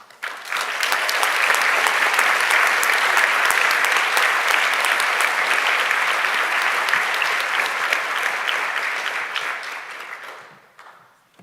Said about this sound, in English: Please give a big round of applause for all award recipients and the awarding organizations